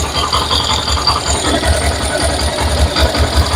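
A Yamaha YTX 125 motorcycle engine idles close up, a steady low mechanical chugging with a ticking, ratchet-like texture, loud and continuous.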